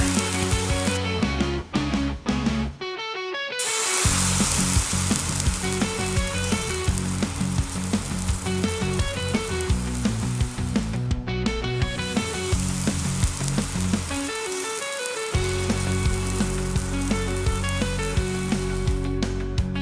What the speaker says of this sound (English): You can brush on some of that leftover butter while they're grilling too.